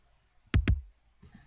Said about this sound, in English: So that's the body of the kick